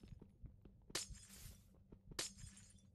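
Two bursts of a glass block shattering in Minecraft, each a sharp crackling break that rings out for about half a second, heard over a low steady background hum.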